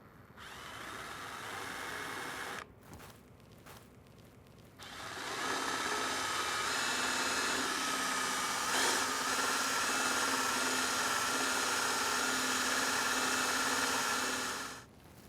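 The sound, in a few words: drilling wood yarn bowl with drill bit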